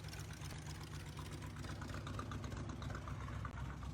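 A Jeep engine with a bad carburetor idles steadily, a low, even rumble that stays continuous and moderately distant throughout with no talk over it.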